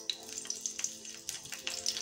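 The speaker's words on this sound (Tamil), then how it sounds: "பச்சை மிளகாய் ரெண்டு போட்டு வதக்கிக்கலாம்." Green chilies fry and sizzle in hot oil in a pan while a guava rice dish is cooked, a close, steady crackle with small spattering pops throughout.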